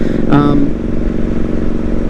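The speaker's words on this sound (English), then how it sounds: "I have a secondary mic in the back for the exhaust, so you guys can hear it" A motorcycle exhaust picked up by a rear-mounted secondary mic gives a loud, close, steady engine rumble for about two seconds, with a brief voice-like sound near the start.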